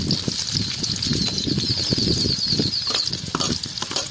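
Large onions fry in hot oil in a kadai, a steady close sizzle with soft stirring scrapes running underneath throughout.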